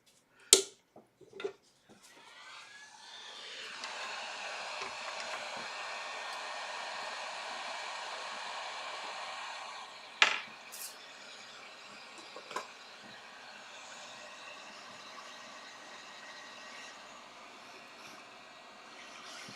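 A heat gun blows with a steady, fairly quiet airy rush for several seconds, then continues at a lower level, with a few sharp knocks and clicks before and after.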